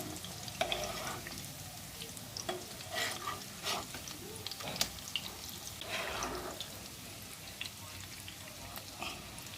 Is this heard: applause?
no